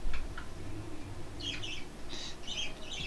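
Birds chirp in the video game Minecraft, with a few short tweets early and then clusters of brighter chirps and calls over a low ambient background, fairly faint and without talk.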